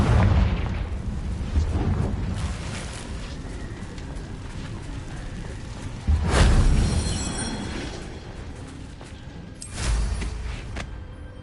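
Confringo fire spell explosions in the video game Hogwarts Legacy: two heavy booms, one around the middle and one near the end, each with a rumbling tail, over a low game background.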